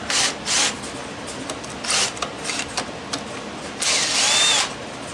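A cordless drill whirs in several short bursts, revving up and stopping, with brief pauses between and a longer run near the end.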